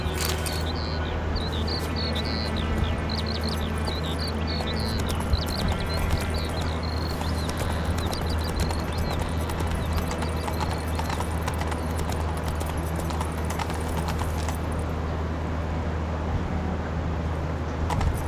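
Steady clip-clop of horse hooves from the mount Roach in the video game Witcher 3, a continuous galloping rhythm over a dense, constant ambient bed with faint insect and bird chirps in the background.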